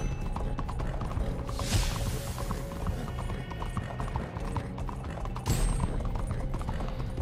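A horse gallops at full speed in Red Dead Online, steady rapid hoofbeats drumming close and loud with faint mechanical clicks mixed in, no talking.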